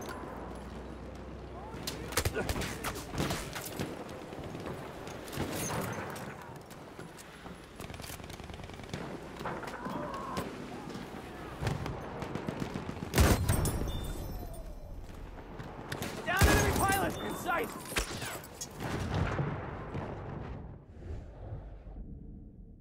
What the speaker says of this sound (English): Enemy machine gun sighted! Machine gun is alive!